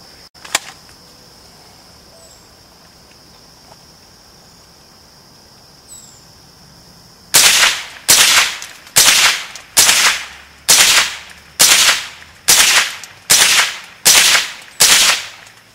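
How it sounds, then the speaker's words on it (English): A Smith & Wesson M&P 15-22 rifle fires Winchester ammunition from a 25-round magazine. After several quiet seconds of outdoor ambience, ten loud, close shots ring out at an even, steady pace, each with a brief decaying echo. "Alright, you just saw 10 shots with the Winchesters."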